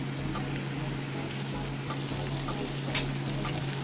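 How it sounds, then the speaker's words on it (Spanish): Onion goes into a pan of frying shrimp, producing a soft, steady sizzle with a light hiss and a brief clatter near the end. "Ahora ya le voy a agregar la cebolla."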